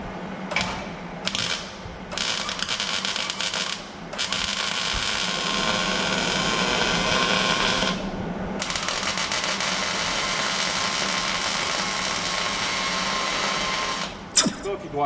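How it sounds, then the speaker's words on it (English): A welder burns a new GM truck bedside panel into place, giving a steady, crackling buzz in long bursts broken by brief pauses, close and fairly loud. "I'm going to roll the welder over here and burn this thing into place"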